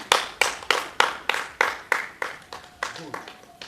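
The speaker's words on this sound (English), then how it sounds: "Clap for her, not reason." About a dozen sharp claps from a small group in a Nollywood domestic scene, evenly spaced and fairly close, slowing a little toward the end, with a faint voice underneath.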